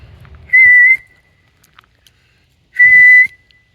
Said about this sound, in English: I just heard like a whistle.